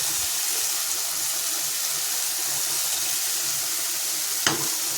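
Poppy seed paste with ginger, garlic and green chili frying in a pan, a steady broadband sizzle with faint stirring scrapes throughout and one sharp clink near the end.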